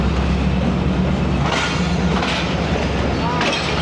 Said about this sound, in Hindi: Chinese locomotive.